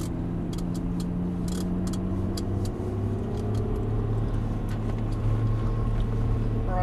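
A Lamborghini Murciélago supercar's engine drones steadily on a Las Vegas racetrack, its low pitch slowly rising as the car gathers speed, with brief higher mechanical ticks near and loud throughout.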